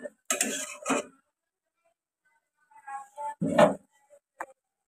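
Chicken being stirred with ground spices in a pot at a home stove, heard as a few brief scrapes and clinks of a utensil against metal, separated by silent gaps.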